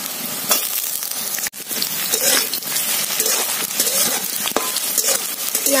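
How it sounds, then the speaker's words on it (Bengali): Cut potatoes go into a pan of lightly fried onions for a Bengali okra dish. Loud, continuous sizzling is broken by scraping stirs and a sharp clack from the utensil. "এবার কেটে রাখা আলু দিয়ে দেব"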